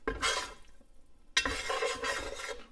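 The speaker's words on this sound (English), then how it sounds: "So the key is just to keep stirring." A flat-sided spoon scrapes and stirs catfish court bouillon in a pot as the base starts to brown, giving two bursts of close, rasping strokes separated by a short pause.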